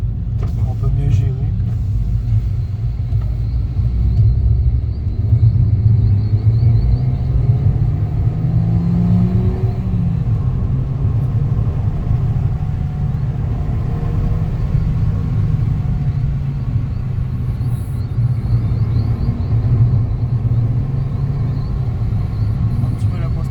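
An Abarth car driving in sport mode with a manual gearbox gives a steady, loud low engine rumble throughout, with a slight rise in pitch midway, while people talk over it.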